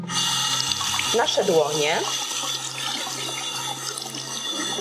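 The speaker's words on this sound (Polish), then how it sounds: "Następnie zwilżamy wodą" Tap water runs steadily into a sink as hands are wetted before hygienic handwashing, a continuous splashing hiss under a woman's instructional speech.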